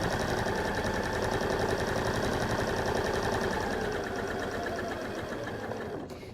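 Sewing machine stitching a fabric seam down the length of a Morsbag, a steady continuous mechanical whirr with fast repetitive needle pulses, loud and close, easing slightly near the end.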